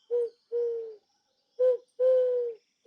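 A bird coos in the 1666 Amsterdam video game, four clear, close, hollow coos in two pairs, each a smooth sustained tone with short silences between.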